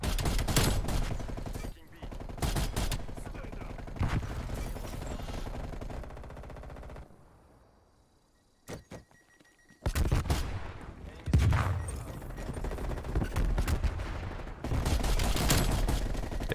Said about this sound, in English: You can really reorganize someone's organs in alphabetical order with one bullet from an M14.